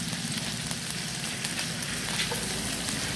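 Chopped garlic frying in a hot pan, giving a steady, even sizzle that holds at a close, moderate level throughout with no talking.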